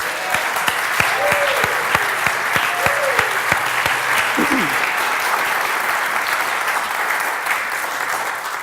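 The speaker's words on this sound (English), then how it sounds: "Let's give him another round of applause." A church congregation applauds a singer, with dense, sustained clapping and some sharp individual claps, plus brief cheers and voices over it.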